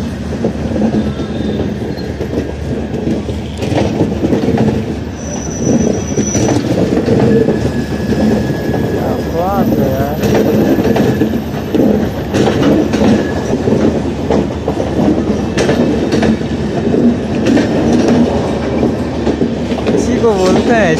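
A train passes at Gorakhpur railway station, giving a loud continuous rumble with rhythmic clickety-clack of wheels, brief metallic squeals and clanks, sustained for about twenty seconds, with voices in the background.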